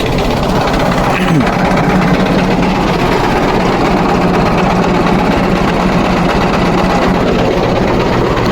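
A Mahindra 605 tractor engine runs steadily with a loud, continuous diesel rumble and clatter close by, while someone talks over it.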